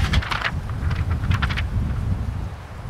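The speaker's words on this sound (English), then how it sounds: "got a little wind here." Gusty outdoor wind buffets the microphone beside a Snow Peak fire pit grill, a steady low rumble with brief rustling swells, loud and close, with no voices.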